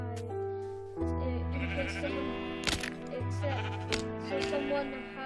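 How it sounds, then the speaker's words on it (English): Sheep bleat in several drawn-out, wavering cries that come one after another, close and fairly loud, with a brief bit of talk and a few sharp clicks between them. "I'm just gonna kill this sheep to help the guy"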